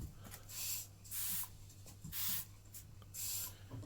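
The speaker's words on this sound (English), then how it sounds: "Just a couple of quick sprays on there, that's all we need." Four quick, sharp bursts of water from a spray bottle hit sassafras acoustic guitar sides before bending, each hiss about half a second long and evenly spaced, with quiet pauses between.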